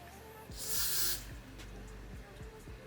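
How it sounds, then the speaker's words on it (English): Hair spray comes out in a short hiss of about half a second as it is misted onto the edges of the hair, with quiet background and faint clicking around it. "I'll just take a little bit of this spray"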